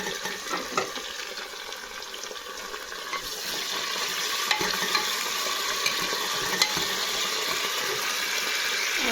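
Tomatoes added to onions in a hot pan, a continuous sizzle and frying hiss with occasional stirring scrapes that grows a bit louder midway, no voices.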